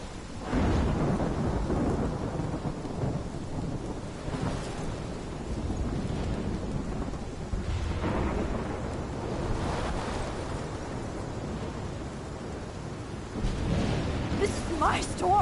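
Thunderstorm in the Life Is Strange video game, with steady heavy rain and rolling rumbles of thunder throughout, loud and continuous, with a voice speaking over it at times.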